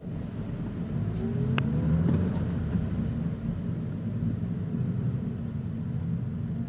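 A 2018 Toyota Corolla iM with a manual transmission accelerating, its engine a steady low rumble with road and wind noise, loud and close from inside the cabin, with a brief sharp click partway through.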